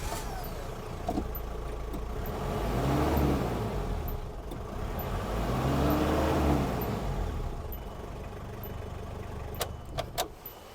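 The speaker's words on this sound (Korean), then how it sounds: "엔진 소리 한번 들어보도록 할게요" A turbocharged Hyundai Galloper 2 engine idles nearby, swelling twice in slow revs before settling, with a few sharp clicks toward the end and no talk.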